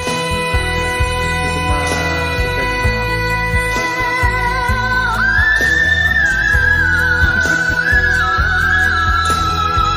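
A very high whistle-register note sung during a live performance on Wish, gliding and sustained above steady band accompaniment for several seconds.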